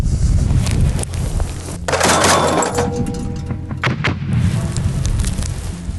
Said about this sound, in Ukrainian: Увага, постріл!